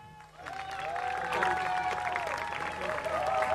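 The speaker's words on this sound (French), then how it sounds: "Sous vos applaudissements" Audience applauding a pageant candidate at a beauty contest in Mayotte, sustained crowd clapping rising after a brief quiet start, moderately distant, with music or cheering mixed underneath.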